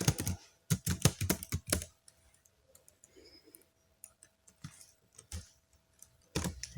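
A computer keyboard clacks as a name is typed in, with a quick run of sharp keystrokes, a quiet stretch with scattered taps, then more keys pressed near the end, close and alone.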